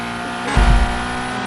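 A Koenigsegg Regera engine drones in a racing video game, loud and steady with a brief low rumbling surge midway, while the car reverses.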